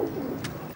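A pigeon or dove coos nearby, a single soft, low throaty call over faint background noise, alone with no speech.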